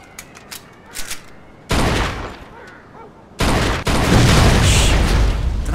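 Gunfire in the Mafia II video game: a few scattered shots at first, then sustained loud bursts of shooting that fill the back half, with faint talk underneath.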